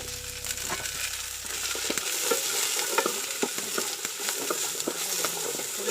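Onions sautéing in a pan for a homestyle chicken curry, cooked over a fire rather than a gas stove, make a dense, even sizzle with frequent close stirring scrapes and clicks throughout.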